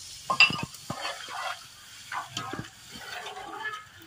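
Gram flour being poured into a pan and stirred for pithla, heard as scattered scrapes and soft knocks of a spoon with faint sizzling in between, fairly close and moderately quiet.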